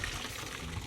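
Water is poured off boiled saltfish through a strainer, a brief, close splashing gush.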